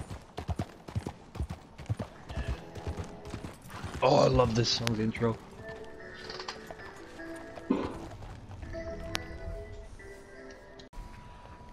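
Horse hooves clip-clop in a Western cowboy shooting video game, a rhythmic trotting patter running through the scene alongside a burst of gunfire, in-game music and sound effects, while a player talks over it.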